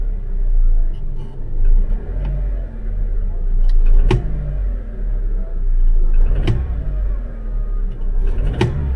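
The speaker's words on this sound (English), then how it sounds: "It sounds like a exhaust manifold leak, that does." A car engine with an exhaust manifold leak runs nearby with a rough, ticking rumble, rising and falling as it is revved, punctuated by a few sharp clicks.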